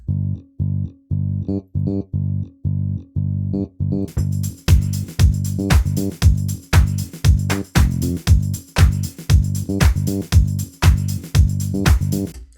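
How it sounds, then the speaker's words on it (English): A punchy funk bass line from a Native Instruments software instrument plays alone in a steady disco groove, soon joined by crisp percussion hits keeping a regular beat. "what we're going to use for this track is the funk bass"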